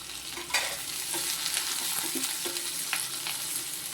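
Onions sizzle steadily in hot oil with cinnamon, cloves and cardamom for a peas and potato kurma, with occasional soft scrapes of stirring over the constant crackle.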